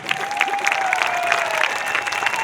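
An audience at a direct-selling motivational event in Varanasi claps loudly and steadily, with a continuous roar of applause and no speech over it.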